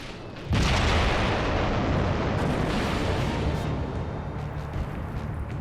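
An explosive charge detonates on a fort turret in archival WWII footage, a sudden loud blast that bursts in abruptly and rolls on as a dense, sustained rumble with debris noise, no talk.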